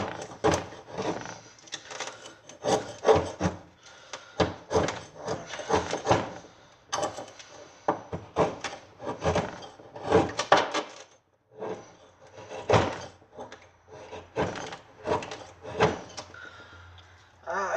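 A mossy oak Bowie knife forced along wood to shave off strips, giving repeated close, effortful scraping strokes in an uneven rhythm with brief pauses between them.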